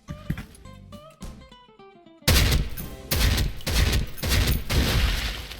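An airsoft G36C fires at a training target, with a few sharp shots near the start, then a loud rapid burst of cracks with clattering after musical tones fade.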